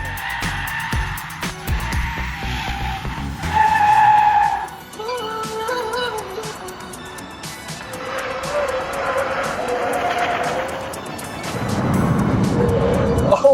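A cheap electric car, part of a $5,000 EV lap-time challenge, skids and slides off the race track, with tyre squeal and loud scrubbing noise that runs steadily for about fourteen seconds, then a rumble as it leaves the surface.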